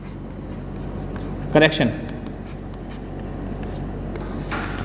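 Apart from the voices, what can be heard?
writing on a board during a lecture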